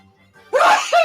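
A person's sneeze in a studio radio show, one sharp burst after soft low murmuring, followed by a brief second vocal burst, close and loud.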